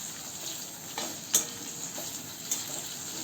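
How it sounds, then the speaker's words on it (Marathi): Onion sautés with garam masala in a hot pan on fast heat, a steady close hiss and sizzle with occasional light stirring ticks against the pan, no talking. "गरम मसाले परतलं का त्यामध्ये कांदा घालूया आणि कांदा परतून घेऊ."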